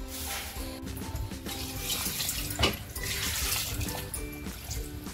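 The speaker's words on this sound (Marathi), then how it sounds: "आता पाणी होतं कुकरला." Water runs steadily from a tap into a pressure cooker holding mutton masala, a continuous close splashing pour lasting throughout with no talk.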